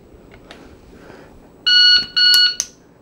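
Loud electronic shot timer beeps for defensive shooting practice: two sustained tones in quick succession followed by a short third blip, sharp and close over a quiet background.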